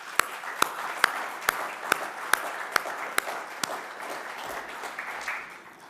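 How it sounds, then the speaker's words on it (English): An audience applauds at an inauguration ceremony for the UNESCO IECD category 2 centre in Seychelles, steady clapping filling the room with a few sharp, louder claps standing out near the front. "truly merits a hearty round of applause and deep appreciation of all of us"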